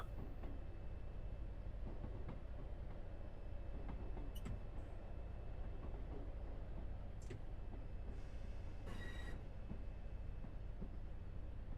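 An HST train runs in Train Sim World 6: a steady low rumbling drone of engine and wheels throughout, with a few faint clicks and a short brighter hiss near the end.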